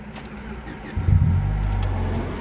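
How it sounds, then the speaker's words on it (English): A car engine turns over and catches after fresh oil was added, settling into a steady low running hum for the last second and a half; it starts loud and close. "Let's see if the car starts now."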